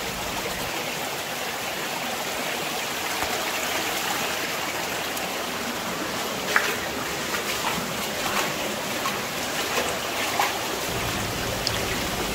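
A clear mountain valley stream on Wolaksan in Chungju flows steadily over rocks, with a continuous broadband rush of water and a few brief splashes or knocks. No one speaks.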